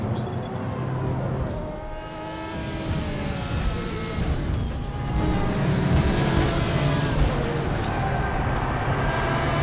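The Kronstadt race car roars past during an endurance race in Hitman 2, a loud continuous engine drone with rising and falling pitch, crowd and track ambience underneath.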